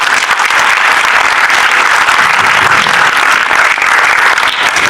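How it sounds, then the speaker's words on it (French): Sustained applause from a large crowd, steady and dense clapping throughout with no pauses. "On peut les applaudir."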